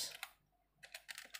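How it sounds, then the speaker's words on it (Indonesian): Keystrokes on a computer keyboard while a DNS lookup command is typed, coming as quick clustered clicks in two bursts separated by a brief pause, close and clear with no talking. "Selanjutnya kita ketikkan ns"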